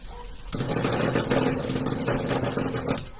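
A 5 hp well pump motor starts and runs on inverter power during a voltage drop test, a sudden steady mechanical hum and rattle close by, continuous after the start with no talk over it.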